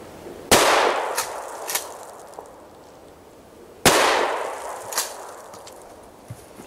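Two loud 12 gauge shotgun blasts from a Winchester PDX1, a few seconds apart, each a sharp crack followed by a rolling echo outdoors.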